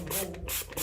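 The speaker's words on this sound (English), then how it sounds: "we're actually going to spray it as well" Scuff mark remover sprayed onto a bowling ball, heard as a few close hissing bursts of spray with short pauses between them, loud and with no talking.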